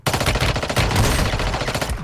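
Rapid, dense automatic gunfire crackles continuously and loudly at close range in the Warzone Mobile video game, a sustained burst of shots with no talking.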